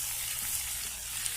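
Local chicken meat frying in a pan, a steady dense sizzle that holds evenly close up, with no voices.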